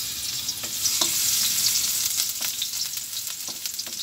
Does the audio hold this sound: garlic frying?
yes